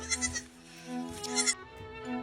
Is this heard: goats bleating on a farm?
yes